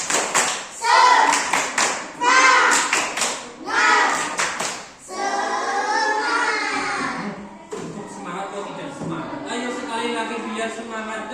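A classroom of children performs a rhythmic clapping chant, bursts of claps in quick patterns alternating with loud sung and shouted group voices close by, then continuing chanting over scattered claps.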